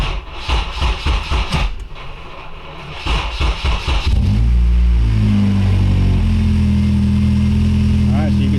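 A car engine runs after an AEM wideband air-fuel sensor install, starting rough and choppy with bursts over talk, then settling into a loud, steady idle hum that continues to the end.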